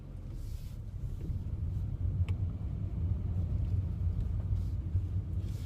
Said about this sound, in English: A bit more gas moving off.